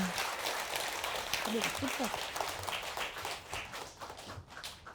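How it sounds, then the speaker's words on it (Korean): Audience clapping at a Buddhist family precepts ceremony at a temple in Uijeongbu, steady dense applause fading toward the end. "큰 박수 부탁드리겠습니다."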